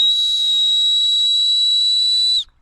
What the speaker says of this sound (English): It's also got a whistle on here